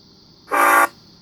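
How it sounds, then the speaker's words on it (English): A single short blast of a Union Pacific SD70ACE diesel locomotive horn from the Trainz game, loud and steady for about half a second, then cut off abruptly. "So here's a Union Pacific SD70 ACE horn I made."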